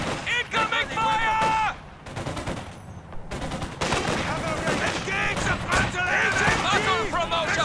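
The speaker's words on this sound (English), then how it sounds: "Incoming fire!" Heavy gunfire and artillery in the Company of Heroes 2 video game on the Essen Steelworks map: dense, continuous bursts of shots and blasts with voice callouts from game units mixed in.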